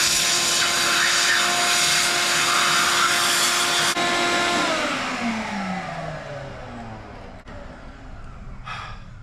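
A vacuum cleaner roars loud and close while sucking debris from the subframe and control arms of a rusty 1969 Chevrolet Camaro, then its motor winds down with a falling whine, leaving a quieter tail with a brief rustle at the end.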